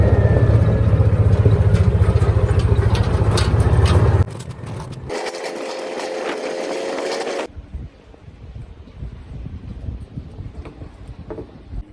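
A Kawasaki Mule utility vehicle engine runs while driving over a bumpy ride, heard from the back bed: a steady loud drone for about four seconds, then a shifted, thinner engine tone, then a rougher, rattling low rumble.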